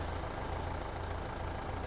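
A tractor engine idles in the video game Farming Simulator 15, a low, steady rumble that holds faint and unbroken for under two seconds.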